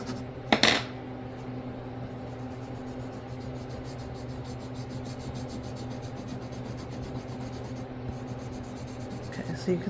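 Colored pencil scratching firmly across black paper in continuous close strokes, with a couple of sharp taps near the start and quiet rubbing throughout.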